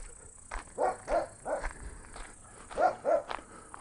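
A dog in a Bashkir village at night barks in two short bursts of sharp, fairly loud yaps, the first a run of four, the second a pair, separated by a pause.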